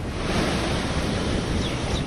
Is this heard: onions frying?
no